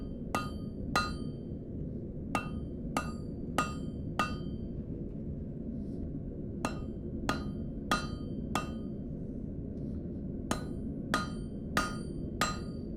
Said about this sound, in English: try that hammer, and if that's too heavy, you can use this lighter hammer